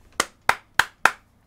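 Four sharp, evenly spaced hand claps from a single person at a pull-up contest, crisp and close with silence between each clap.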